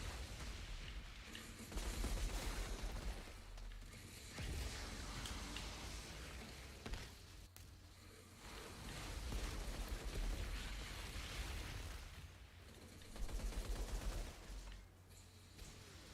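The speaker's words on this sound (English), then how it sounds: "expeditions like this one where there's just a lot of gunfire going on." Dense, rumbling bursts of rapid gunfire and explosions roll on continuously in the video game Outriders, loud and chaotic with short lulls between volleys.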